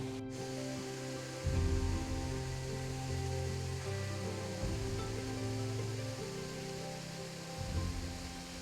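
Small waterfall at Desoto Falls after heavy snow, a steady rushing splash of falling water with a constant wash, heard close and alone without talk.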